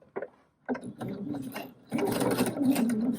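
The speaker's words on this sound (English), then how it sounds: "every time that it takes 1 stitch, it's going to make a ruffle" A sewing machine fitted with a ruffler attachment stitches fabric, running in short bursts that start and stop before settling into a louder, steady mechanical whir near the mic.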